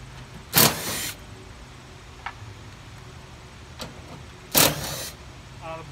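A screw gun with a 5/16 bit drives screws out of an HVAC filter panel on a mobile office trailer, with two short bursts of loud whirring several seconds apart, faint clicks between them and a low background hum.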